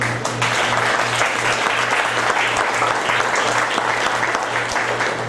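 An audience at a county Republican primary forum in southeast Kansas applauds, a steady, full burst of many hands clapping at close range with a low hum running underneath.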